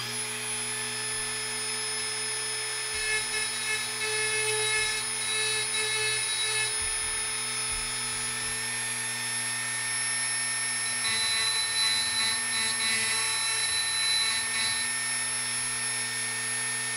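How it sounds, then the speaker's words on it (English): A Dremel rotary tool whines at a steady high pitch, roughing up the surface of shiny stockings used as Christmas ornaments, running continuously near the microphone with slight changes in load and no talking. "I have my Dremel tool here, and what I'm going to do is just rough those up a little bit."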